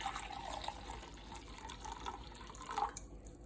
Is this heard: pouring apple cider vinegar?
yes